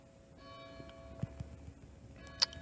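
Distant church bells ring faintly outdoors, their sustained tones hanging steadily over quiet background noise, with a few soft knocks and one sharp click near the end.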